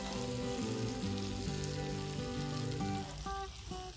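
Kashmiri chili powder and crushed kasuri methi sautéing in melted butter for a makhani gravy, a steady close sizzle running throughout under tonal background music.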